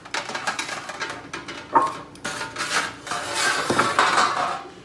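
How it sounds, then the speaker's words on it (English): Cooking pans are handled on a kitchen counter, with irregular metallic clanks, scrapes and clatters close by, several sharp knocks standing out, and no talk. "now we're gonna take one of our pans here"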